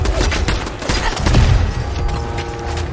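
An MK1 turret fires a rapid burst of gunfire in the Fallout 4 video game, loud dense cracks with thumping low booms, nearly continuous across the stretch.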